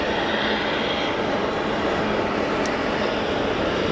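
A CRJ 1000 jet airliner climbing away steeply on takeoff from Geneva Airport, its broad engine roar steady and loud throughout, with no voices over it.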